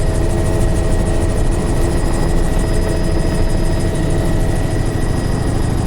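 A helicopter roars steadily overhead, its rotor thumping in a constant loud drone with no voices.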